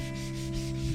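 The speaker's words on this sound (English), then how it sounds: "I got my piece of 400 grit out here on the sanding block" Steady abrasive rubbing of fine 400-grit sandpaper on a sanding block, close and continuous, with a soft scratchy hiss throughout.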